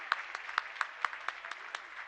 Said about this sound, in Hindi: थोड़ी सी ताली हम बजा सकते हैं।